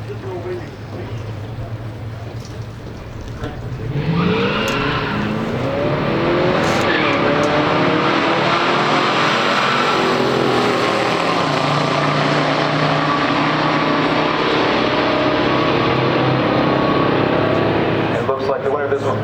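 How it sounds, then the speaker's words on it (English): A 1970 Pontiac GTO 455 and a 1969 Plymouth Cuda 440 pure stock drag race, engines idling and then roaring loud and sustained as both cars launch and accelerate down the strip. "1970 Pontiac GTO 455 going against this 1969 CUDA"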